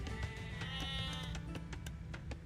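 Sheep bleats from an Age of Empires II game, set off by a stream chat command, ring out several times in quick succession over a steady background of game sounds and music.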